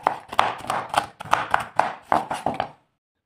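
Almonds being coarsely chopped with a knife on a board, about a dozen quick, close, crisp knocks in an uneven rhythm, then silence.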